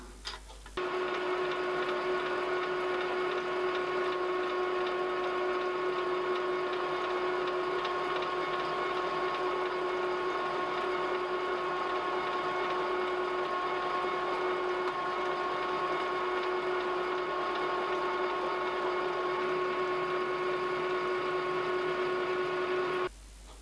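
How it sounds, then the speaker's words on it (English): A 4 mm face-cutting end mill cuts a small oil reservoir into a 5-inch gauge locomotive's valve gear eccentric strap, a steady machine hum with a fixed tonal whine that runs unbroken and even for the whole stretch, with no talk. "I'm just using a 4 millimeter face cutting end mill"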